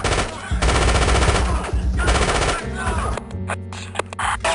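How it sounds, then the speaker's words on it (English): Automatic AK rifles firing in the video game Spycraft: The Great Game, loud rapid bursts of gunfire close by, breaking off partway with some shouting mixed in. "Taking fire! Taking fire! Automatic weapons!"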